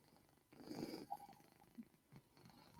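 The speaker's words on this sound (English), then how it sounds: "Either Gary's learned how to purr or George is sitting on his lap." A cat purrs softly while sitting on a lap, a quiet, close rumbling with a few faint snorty breaths and small shifting noises.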